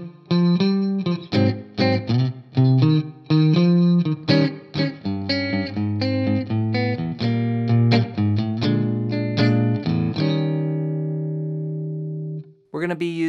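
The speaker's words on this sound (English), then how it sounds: "Now the song starts off with an intro on the last four bars of the 12 bar blues" Electric guitar plays a blues intro over the last four bars of a 12-bar blues, steady chord strums with an effected, slightly driven tone, closing on a sustained ringing chord.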